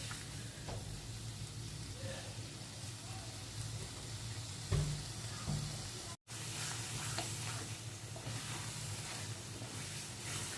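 Grated carrot halwa sizzles steadily in oil in a pan while being stirred, a continuous close frying hiss with occasional scraping strokes.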